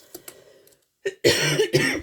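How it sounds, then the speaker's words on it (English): A couple of sharp, harsh coughs close to the mic, preceded by faint throat noises, with no talking. "Sorry, now I've coughed"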